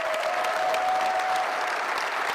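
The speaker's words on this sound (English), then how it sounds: "Let's give him a round of applause." Steady, full audience applause at a press conference introducing Maryland's men's basketball head coach, even and continuous throughout with no voices over it.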